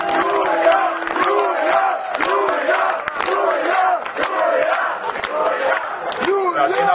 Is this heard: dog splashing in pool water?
no